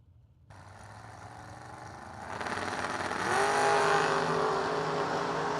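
A Camaro and a Mopar drag car launch and race down a drag strip, engines rising from a low rumble to a loud, building roar as they pull away and pass.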